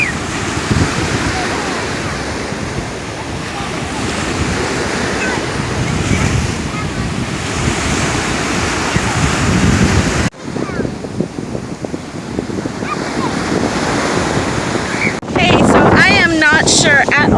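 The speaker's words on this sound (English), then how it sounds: "It is very windy" Strong wind buffets the microphone on a Florida beach at Caspersen Beach in Venice while surf rolls and crashes nearby, a loud continuous roar that briefly drops out and then surges again near the end.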